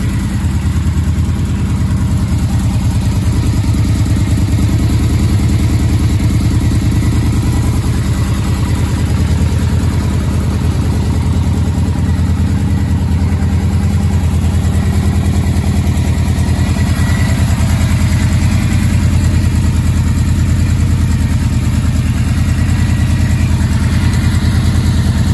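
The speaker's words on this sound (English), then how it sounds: "stunning sounding V4 engine on there" A Yamaha XVZ1300 Royal Star Venture motorcycle with a carbureted V4 engine, old-fashioned choke and road-legal mufflers idles steadily up close, a loud, even low rumble holding without revving throughout.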